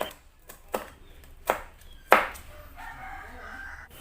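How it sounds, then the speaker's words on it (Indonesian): Red curly chilies sliced diagonally with a knife on a board: a handful of crisp, separate cuts spaced unevenly, close and fairly clear, with no voices. "ini aku gunakan 2 biji cabai merah keriting diiris serong."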